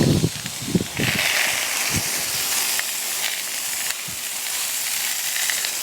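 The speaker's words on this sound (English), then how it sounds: "go ahead and cook the steak now" A steak sizzles on the griddle of an offset smoker, making a loud, continuous close-up hiss and crackle, with a few low thumps and handling sounds at the start.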